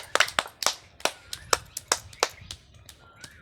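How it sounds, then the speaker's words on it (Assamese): Audience applause at a live event welcoming the singer, heard as sparse, uneven hand claps from a small crowd, sharp and fairly close, about a dozen distinct claps spread out rather than a dense roar. "আপোনালোকে আৰু হাত চাপৰি দিয়ক।"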